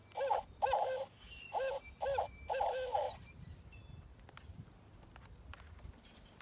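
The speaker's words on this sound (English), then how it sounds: "A barred owl sits in an apple tree waiting for night." A barred owl sitting in an apple tree gives a series of about five loud, rhythmic hoots, close and clear, then falls silent over quiet outdoor background with faint knocks.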